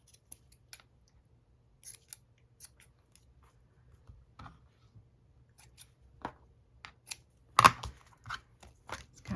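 Scissors snip through paper in scattered, crisp close cuts, sparse at first and then quicker, with one louder snap near the end, all in a quiet room.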